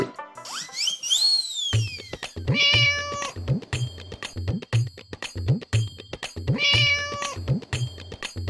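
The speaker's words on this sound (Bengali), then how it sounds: "ওই দেখ দিদি, ওই বিড়ালটা ঝোপের পিছন থেকে আসছে" In an animated cartoon, a long, wavering meow opens, then shorter meow-like calls repeat over a steady rhythmic beat with sharp, evenly spaced taps.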